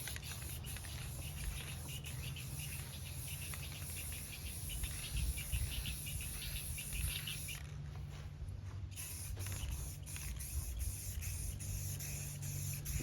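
An aerosol spray can hissing steadily while paint is sprayed onto a Harley-Davidson fuel tank, a continuous close spray with a brief pause partway through, under a low constant hum and no talk.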